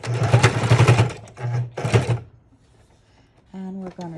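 A sewing machine stitches an envelope onto a junk journal page in three quick whirring bursts with short pauses between them, close and loud. After a quiet gap, a voice speaks briefly.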